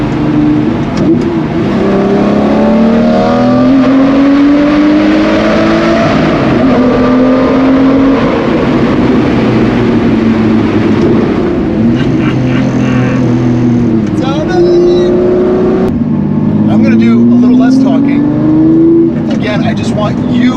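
A Lamborghini Murcielago with a six-speed gated shifter roars loud and close inside a tunnel, its engine note climbing and then stepping down through downshifts. Someone talks over parts of it.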